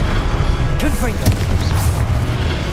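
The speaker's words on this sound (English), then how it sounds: "Confringo." Fire-spell explosions booming in Hogwarts Legacy: a sustained roar of blasts and crackling bursts, loud and close, with a sharp crack near the middle and a commentator speaking over the din.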